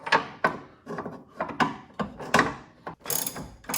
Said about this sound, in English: let's go in here and break these loose with the breaker bar